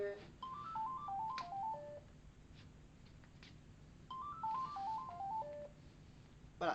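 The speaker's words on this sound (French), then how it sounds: "c'est le téléphone qui sonne" A telephone ringtone plays a short descending electronic melody twice, with a pause between the phrases, fairly faint over a low background hum and without speech.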